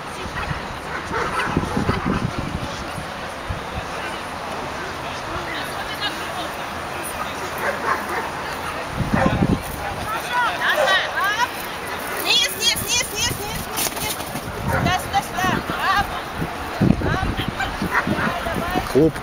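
Dogs bark and yip at a dog agility competition in Kharkiv, with a miniature schnauzer running a snooker course; sharp barks rise over crowd chatter and children's voices nearby.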